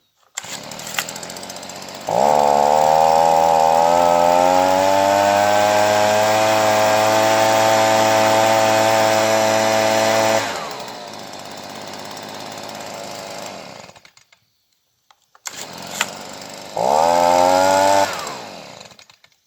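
A Stihl BG55 leaf blower two-stroke engine fires up and runs loud and steady for about eight seconds, drops to a rough idle, cuts out briefly, then revs again near the mic.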